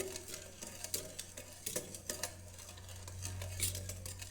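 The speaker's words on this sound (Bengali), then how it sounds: "দুধটা আমি মিশিয়ে নিচ্ছি" A spoon stirs milk into yogurt cake batter in a bowl, giving soft, irregular clinks and scrapes against the bowl's side, quiet and close, with no talking.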